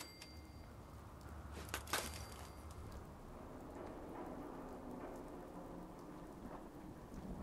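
Steady rain hisses down in the video game Fallout 4, a dense wash of drops on surfaces with a brief crack of thunder near the start, continuous and even throughout.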